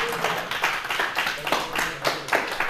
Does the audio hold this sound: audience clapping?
yes